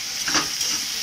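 A spoon stirs salted tomato masala frying in a pan for chicken curry, a steady close sizzle and scrape with no talking.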